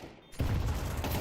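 A grenade blast in a tactical shooter game during a 3v3 retake: after a brief quiet stretch, a sudden loud low boom erupts and rolls into sustained rumbling gunfire-like noise, with no speech.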